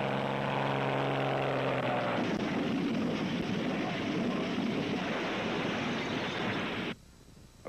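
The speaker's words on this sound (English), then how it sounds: "Airplane." A fixed-wing airplane passes with a steady, loud roar and wind-like rush that swells and fills the sound before cutting off abruptly near the end, with no talk.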